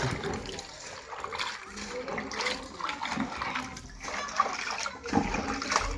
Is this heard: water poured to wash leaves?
yes